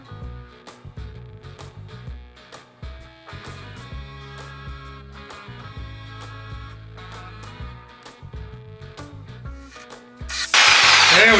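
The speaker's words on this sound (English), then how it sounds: "we need to take a saw to this old hitch right here" A saw cuts through an old hitch on a Jeep Wrangler YJ, bursting in loud and harsh near the end after a stretch of quieter tonal, music-like sound and light knocks.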